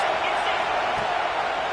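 A stadium crowd in a college football video game roars steadily on a big third down, a dense, continuous wall of cheering with no gaps.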